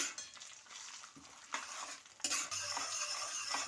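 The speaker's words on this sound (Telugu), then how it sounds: "పోపు వేగుతోంది కదండి" Tempering spices with asafoetida sizzle and crackle in hot oil while a spoon stirs and scrapes the pan, close and steady.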